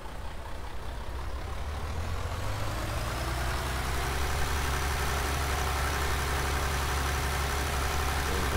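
A free tractor's engine idles steadily in a farming video game, a low continuous rumble holding even and fairly loud throughout with no talk over it.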